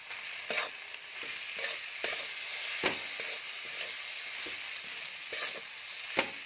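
Flat-bean stir-fry in a pan makes a soft steady sizzle, with a spatula scraping and tapping through the vegetables every second or so, close and moderate in level, and no voices.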